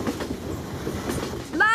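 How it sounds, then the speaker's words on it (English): A train passing in a city in a children's animated series, a steady rumbling roll of rail noise under a background mix, with a brief squealing whistle-like tone near the end. "It's a train, a beautiful train."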